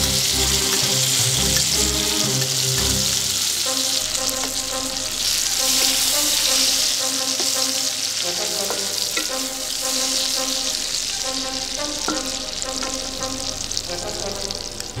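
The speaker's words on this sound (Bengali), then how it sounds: "এতে 50 গ্রাম কাজু বাদাম লাল করে ভেজে নিন।" Cashew nuts frying in oil in a pan give a loud, continuous close sizzle, with occasional stirring clinks and a voice speaking faintly underneath.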